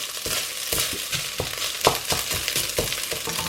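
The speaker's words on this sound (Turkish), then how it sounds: "Evet kıymamız kavruldu." Minced meat frying in a pan sizzles steadily, with repeated scraping stirs breaking through at a fairly close, moderate level and no talking.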